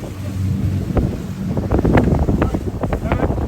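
Wind blowing outdoors in Corner Brook, Newfoundland, buffeting the microphone in a steady low rumble with gusty swells, heard close and loud, with faint indistinct voices underneath.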